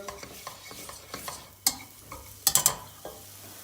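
Dried mint stirred and frying with tomato paste in a pan, soft sizzling under repeated scraping strokes of a spoon, with a few sharp clinks of utensil against the pan.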